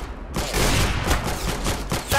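Rapid gunfire from the Roblox game Arsenal during a one-on-one match, a dense burst of loud shots that runs almost the whole time after a brief quiet start.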